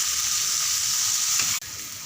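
Rock fish pieces dropped into a simmering spicy tamarind fish curry give a steady, loud sizzle and bubbling, with a brief dip near the end as the fish goes in.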